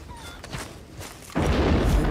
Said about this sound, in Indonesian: itu suara petir guys.